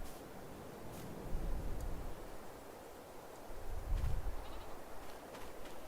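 Goats bleat a few times in a farming video game with a mod that adds goats, faint and fairly distant over steady background hiss, two louder calls standing out.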